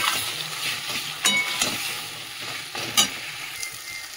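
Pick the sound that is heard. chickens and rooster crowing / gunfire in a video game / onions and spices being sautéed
onions and spices being sautéed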